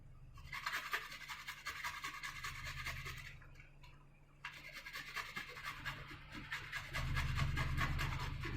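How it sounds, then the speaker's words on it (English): Peeled fresh ginger is scraped across a grater in steady rapid rasping strokes, close and moderately quiet, with a short pause partway through before the grating resumes. "First grate the ginger."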